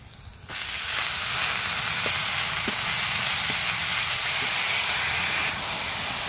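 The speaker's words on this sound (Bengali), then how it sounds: "এবার আমি এর মধ্যে দিয়ে দেব গ্রেট করে রাখা কাঁচা আলু।" Grated raw potato drops into hot tempering oil with green chili, bursting into a loud, steady sizzle and hiss that holds for about five seconds, with faint ticks of spatter, then cuts back to a quieter background.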